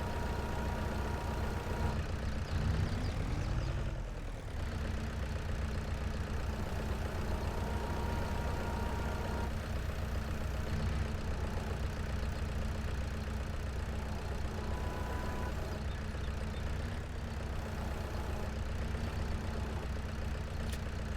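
Tractor engine idling in Farming Simulator 22 on the Elk Mountain, Wyoming map, a steady continuous low drone with a brief dip and shift in tone early on, with no talk.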